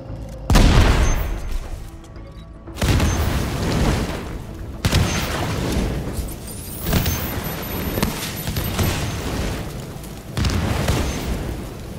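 Explosions in the video game The Division, several heavy booming blasts spaced a few seconds apart, each with a long rumbling tail.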